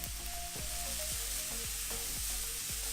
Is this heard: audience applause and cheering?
no